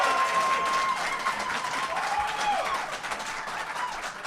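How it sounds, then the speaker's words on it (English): Crowd at a debate applauding, a broad wash of clapping and murmur heard from some distance, steady and moderately loud with a faint tonal whistle or feedback drifting through. "Let's hear some real applause."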